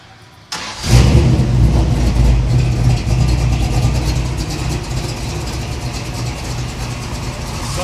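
A Plymouth Cuda with a 512 stroker V8 cranks and fires on its own, then settles into a loud, lumpy, rumbling idle that continues steadily close by.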